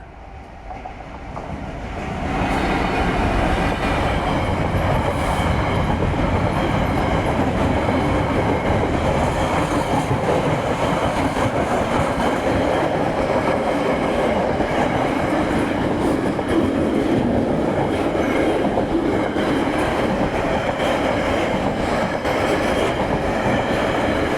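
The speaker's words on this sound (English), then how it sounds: "so the next train, here it comes." A train rolls past close by, a steady loud rumble with rhythmic clacking of wheels on track, building in over the first couple of seconds and holding.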